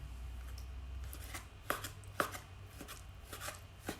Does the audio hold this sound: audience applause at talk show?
no